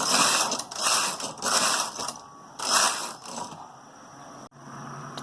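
A domestic knitting machine carriage is pushed back and forth to knit several rows, giving a series of loud rhythmic ratcheting, clattering mechanical sweeps, each pass a second or so long, with a sharp click near the end.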